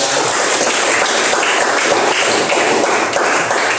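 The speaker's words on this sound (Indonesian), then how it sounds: "tepuk tangan lagi juga" Dense, steady applause from an audience at an Indonesian school project presentation, a continuous wash of many hands clapping at loud, even volume throughout with no pauses.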